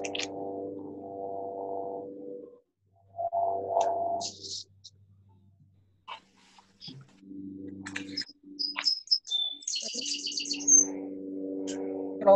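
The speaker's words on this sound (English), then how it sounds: "Look at all the birds." Outdoor birds chirp in short, high, scattered tweets behind a call with droning electronic feedback tones that start, stop and return, the chirps faint to moderate.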